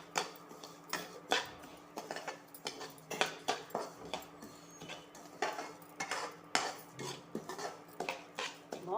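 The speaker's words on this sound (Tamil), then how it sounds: "வறுத்த பாஸ்மதி ரைஸோடைய நம்ம எடுத்து வச்சுருக்கிற ரவையும் சேர்த்து வறுத்துக்கலாம்." Semolina roasting dry with basmati rice in a pan while a spoon stirs: a steady run of quick metallic scrapes and clinks against the pan, fairly quiet and close.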